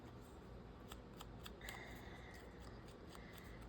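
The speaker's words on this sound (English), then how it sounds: "like, cut these down more." Scissors snip through paper cards being trimmed down in a craft session, a series of sharp, close cuts and light paper rustles over a steady low background hum.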